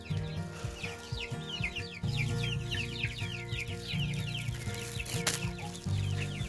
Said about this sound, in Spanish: Allá están los pollitos